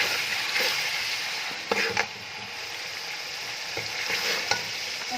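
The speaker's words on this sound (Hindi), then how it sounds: "तकरीबन 2 से 3 मिनट के लिए लहसुन और अदरक के पेस्ट को प्याज़ों के साथ फ्राई करेंगे" Garlic and ginger paste fries with onions in a pan for a chicken and sohanjana salan. A dense, close sizzle runs throughout, broken by several scraping stirs, with no voices.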